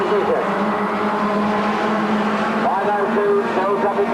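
Race cars at Ringwood Raceway bunch up out of the pit bend, engines droning loud and continuous with rising whines as they pass close, while a commentator calls the race over them.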